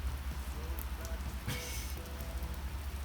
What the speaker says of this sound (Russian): У нас тут ливень